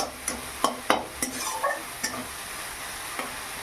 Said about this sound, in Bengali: এইভাবে বেশ কিছুক্ষণ ধরে কষিয়ে নেব এই মশলাটা।